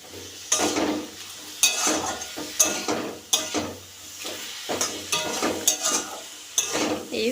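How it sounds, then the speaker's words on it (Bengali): Chopped bottle gourd with tomato and salt sautéed in a pan for lau dal, with repeated sharp spatula scrapes and clinks over a soft sizzle, the strokes coming in an uneven rhythm, close and fairly loud. "এইভাবে এটাকে আমাদের কষতে থাকতে হবে যতক্ষণ না লাউ থেকে পুরোটা জল বেরিয়ে যায়।"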